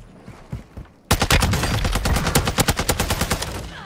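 Rapid automatic gunfire from a TAQ-V rifle in the Warzone 2.0 video game, a loud sustained burst of evenly spaced shots after a second of quieter in-game noise.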